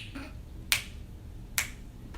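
Two crisp finger snaps, close and fairly loud, spaced roughly a second apart over a quiet low background hum, with no talking.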